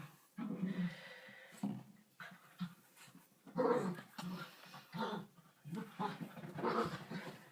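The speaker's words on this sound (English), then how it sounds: "There's a dog at it again" A poodle-cross dog growls and whimpers in short, uneven bursts nearby, with restless breathing between the vocal sounds and no talk.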